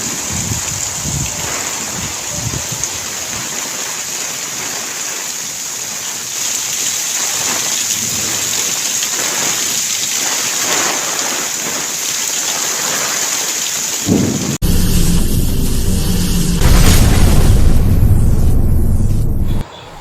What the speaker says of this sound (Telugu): మా ప్రాంతంలో వర్షం ఈ విధంగా అయితే పడింది చూడండి